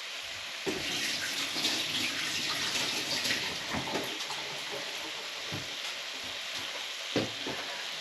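Hands rinsed under a running kitchen tap, a steady close rush of water with a few brief splashes and shifts in flow, heard alone.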